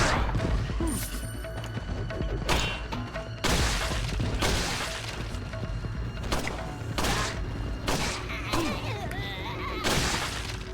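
Pistol shots ring out in the video game Resident Evil 4 as repeated sharp bangs at irregular intervals over dense game sound effects and background noise.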